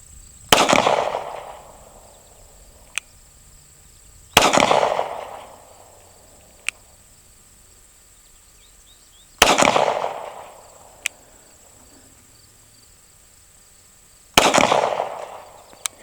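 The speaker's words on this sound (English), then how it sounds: "I'm just having a little fun here and putting some rounds through it." Four loud, sharp pistol shots fired at a distant target roughly 90 yards away, spaced several seconds apart, each with a booming echo that decays over a second or two, with faint clicks between.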